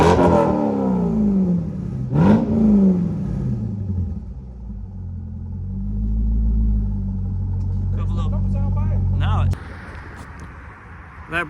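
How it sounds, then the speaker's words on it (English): A C5 Corvette fitted with a DNA Motoring exhaust revs up and settles into a deep, rumbling idle, with a couple of rising blips before the engine note cuts off near the end; loud and close, no talking. "gonna give her a couple revs real quick."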